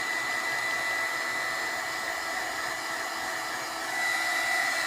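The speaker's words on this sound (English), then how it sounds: "I am using my heat gun to dry this" A heat gun blows steadily to dry glue for foil on a journal card, a continuous loud whooshing hiss with a faint whine, unbroken for the whole stretch and slightly stronger near the end, with no talking.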